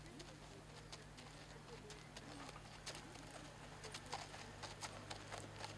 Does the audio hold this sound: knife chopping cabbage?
no